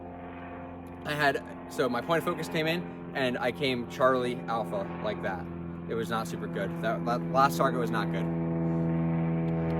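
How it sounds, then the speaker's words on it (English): An airplane flying overhead makes a steady low engine drone that gradually grows louder under a man's continuous speech. "Sorry about the plane."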